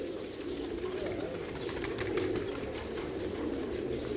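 Many double-crested pigeons coo together in a dense, continuous low murmur, steady and close, with faint scattered chirps and rustles above it.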